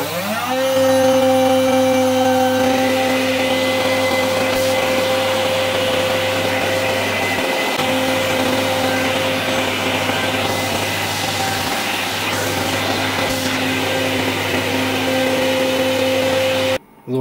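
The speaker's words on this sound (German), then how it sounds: "werde ich jetzt erstmal hier die Platte nochmal planfräsen. Dafür habe ich hier einen extra Spezialfräser, der hat 35 mm Durchmesser" Aluminium plate being face milled with a 35 mm diameter cutter, a loud steady machine whine with strong tonal hum running continuously for the whole stretch and stopping abruptly at the end.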